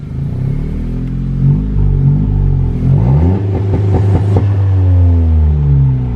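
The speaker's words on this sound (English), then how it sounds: "here's a two-step" A car engine holds a rev on two-step launch control, a loud, steady, bouncing drone with a rapid stuttering crackle in the middle, then rising and settling as the revs shift, close by with no talk.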